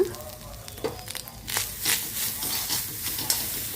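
Ivy gourd frying in a pan for a dry vegetable dish, with scraping stir strokes over a steady sizzling hiss that swells after the first second and runs on continuously, close and moderately loud.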